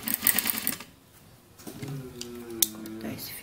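A sewing machine stitching bias binding runs in a short steady hum with a brief rapid burst at the start, close and moderate in level, with light handling noises around it.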